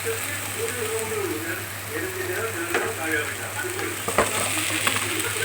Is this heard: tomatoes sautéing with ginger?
yes